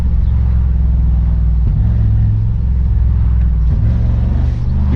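A 2023 Brabus G900 Superblack, the Mercedes G-Class-based V8 SUV, rumbles at low RPM, a deep steady engine drone with a couple of shifts in tone, loud and close with no talking.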